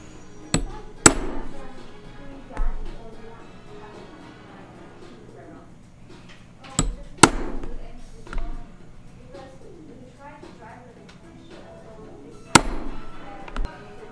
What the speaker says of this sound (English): now I'm just gonna start punching hole. This is where it gets a little bit loud